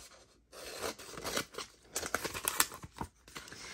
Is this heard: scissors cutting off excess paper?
yes